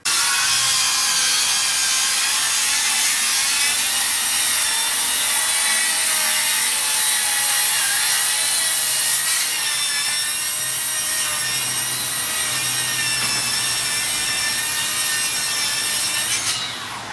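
Makita 40v cordless circular saw ripping H1.2 pink framing timber, a loud, steady high-pitched cutting whine held for the whole run, easing slightly near the end.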